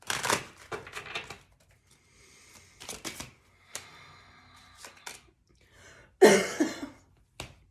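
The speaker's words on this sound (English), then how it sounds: "Excuse me for the cough." Several short bursts of coughing and throat noise come close to the microphone, scattered irregularly with quiet gaps, the loudest harsh cough near the end, alongside light card-handling rustles during a tarot reading.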